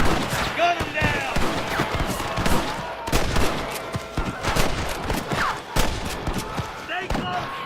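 Rapid gunfire from the Western video game Red Dead Redemption during a shootout with lawmen, dense cracking volleys close and loud, mixed with shouting voices and hoofbeats.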